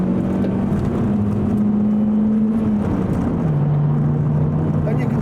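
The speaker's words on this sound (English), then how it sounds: "I'm just going to demonstrate the acceleration here" Vauxhall Zafira M25 engine pulls under acceleration as a steady in-cabin drone, its pitch rising and then dropping at a gear change before climbing again, with a voice talking over it.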